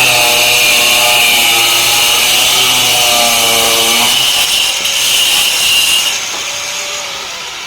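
A tile grinder cuts natural stone for a front elevation, a loud steady whine with pitched harmonics that drops as the blade bogs into the stone, then eases off and fades toward the end.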